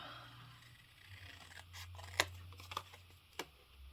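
Scissors trimming spring tags, a few crisp snips and cuts spread across the moment, quiet and close over low room hum.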